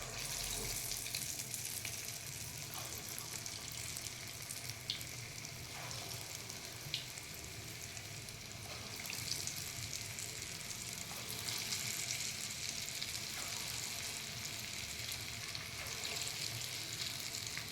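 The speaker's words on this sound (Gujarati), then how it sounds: "તો જો આપણે આમાં પકોડા તળી લેવાના." Steady bubbling sizzle of dal vada pakoras deep frying in hot oil, continuous and fairly close, with faint clinks now and then and no voices.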